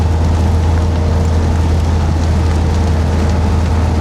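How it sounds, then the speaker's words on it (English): Steady heavy rain drums on a moving car, likely an old Triumph Spitfire with a loose hood corner letting wind in, a constant dense wash over a low road and engine rumble, loud and unbroken with no voices. "It's been absolutely biblical, the rain today."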